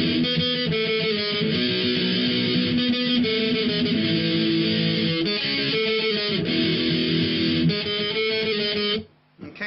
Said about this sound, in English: Okay, so right from the start then of the pre-verse, it'll sound like this.